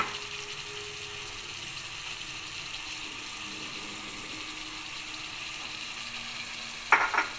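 Lentils are added to spice masala frying in a pan with turmeric and garam masala, then stirred; a steady, close sizzle runs throughout, with a brief clatter near the end.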